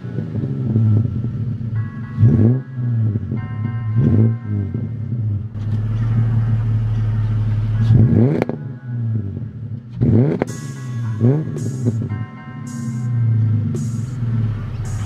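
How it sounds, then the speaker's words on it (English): A Ford Falcon FG XR6 engine idles with a low rumble, then revs briefly in several short bursts, the exhaust roaring and dropping back each time. "I'm just gonna rev it up, not very high"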